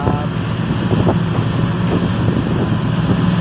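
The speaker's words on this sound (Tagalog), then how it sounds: "Lakas talaga ng aming hanging amihan." Strong amihan wind buffets the microphone at sea in rough water, a loud steady roar with boat and wave noise underneath and no clear talk.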